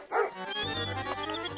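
Cartoon dogs bark, a sharp yip up front followed by a sustained whining, yelping call, close and clear with no speech.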